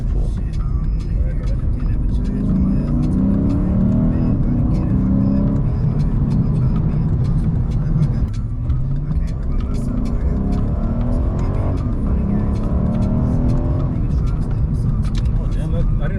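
A 2023 Lexus IS500 F Sport V8 pulls hard under manual-shift acceleration, its engine note rising and falling in repeated sweeps through the gears, heard from inside the cabin beneath steady road noise with people talking over it.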